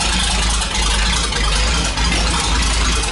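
A car engine idles too low, giving a steady loud rumble with a deep throb and broad hiss, close and continuous with no talk.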